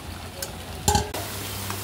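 Meat being sautéed and stirred in a pan, a soft steady sizzle under scraping and clinking as a utensil moves against the pan, with a sharper rattle near the middle.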